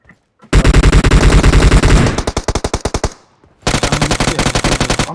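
Automatic gunfire in PUBG on the Miramar map: loud, close rapid bursts of rattling shots, a long burst followed by a pause and another burst.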